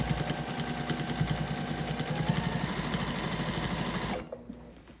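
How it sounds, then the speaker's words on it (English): A sewing machine stitches along the top edge of a quilted gift bag with a steady, close, loud mechanical whir and rapid needle rhythm, then stops abruptly just before the end. "I pull the rest of this bag forward, making sure nothing is under that needle that shouldn't be there"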